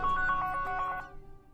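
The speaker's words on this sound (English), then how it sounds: "And that's my phone." A phone ringtone plays in a repeating melodic pattern of bright tones, then cuts off and leaves a faint room background.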